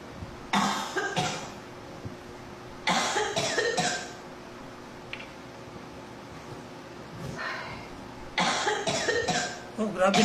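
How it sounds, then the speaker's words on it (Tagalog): A woman nearby coughs hard in several harsh bursts, with long quiet gaps between each fit. "Oh, grabe na ubo nun ah."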